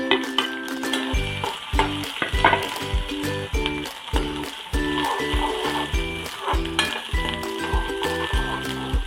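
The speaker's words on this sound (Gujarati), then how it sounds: "હવે એમાં આપણે લીલી ડુંગળીનો સફેદ ભાગ નાખી દઈશું" The white part of spring onions sizzling in a pan for Kathiyawadi dhaba-style vagharelo rotlo, a bright continuous crackle broken by rhythmic metallic spatula strokes against the pan, close and fairly loud.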